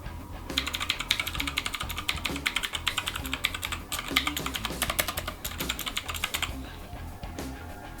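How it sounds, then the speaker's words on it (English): Fast, steady typing on a Cooler Master mechanical keyboard, a dense clatter of sharp close keystrokes with brief pauses, heard alone in a quiet room. "this is just a Cooler Master mechanical keyboard I've just got on one side, so you'll be able to see the difference again"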